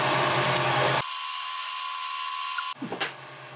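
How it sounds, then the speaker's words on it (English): A small handheld screwdriver drives screws on a 3D printer extruder during a direct drive install on an Ender 3 V2: a brief high whining motor run starts abruptly, holds for under two seconds, then cuts off into light clicks. "My trusty little screwdriver."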